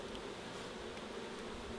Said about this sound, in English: they are already festooning that gap with loads of bees all joining together